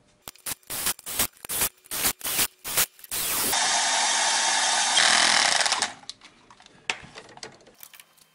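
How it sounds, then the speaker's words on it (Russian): Bolts being tightened during a cylinder head repair on a Renault Logan: a run of sharp, rapid clicking bursts, then a steady loud whirring tool for a few seconds, ending in scattered quieter clicks, with no talking. "Завернул все на 7 ньютон."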